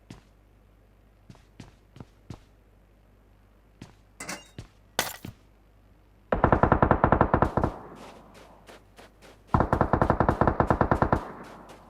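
M4 rifle fire in the PUBG Mobile game on the Karakin map: scattered single shots and footsteps, then two loud, rapid full-auto bursts of several seconds each, close and dominant.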